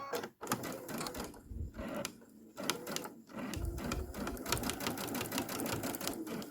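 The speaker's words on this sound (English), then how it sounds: "I'm going to just go ahead and sew around this at 1/4 of an inch." A sewing machine stitches around a quilted embellishment at a quarter-inch seam. Close, rapid needle chatter runs in bursts with short pauses between runs, and there is no talk.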